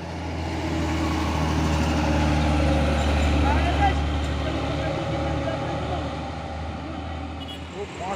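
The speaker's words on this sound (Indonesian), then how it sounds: "Oh, masuk lagi bus ALS." ALS bus, a UD-type heavy coach, labouring up a steep road, its deep engine roar loud and close, swelling then easing, with traffic around and someone talking over it.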